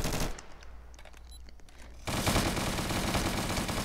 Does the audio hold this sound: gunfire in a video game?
yes